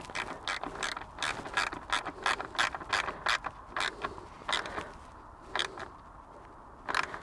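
A torque screwdriver ratchets as a part is nipped up tight on a Ferrari 458 roof kit, a quick run of close, crisp clicks that slows to sparse single clicks, with no talking.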